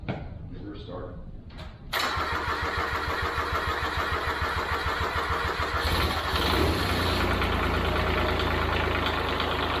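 A lawn mower engine, just refilled with fresh oil, cranks and catches after a couple of brief pulls, then settles into a loud, steady idle that swells slightly partway through.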